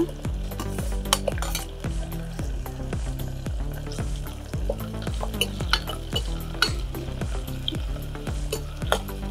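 Chicken and potatoes fry in a pan for bagara rice, a loud continuous sizzle broken by steady rhythmic scrapes and clinks of a spoon stirring against the metal.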